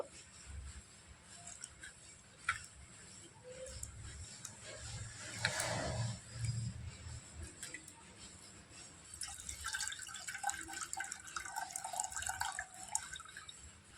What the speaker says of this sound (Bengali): আরও একবার জল দিয়ে আমি ভালো করে ধুয়ে নেব।